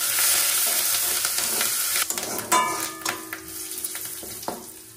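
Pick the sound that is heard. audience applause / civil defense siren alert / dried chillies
dried chillies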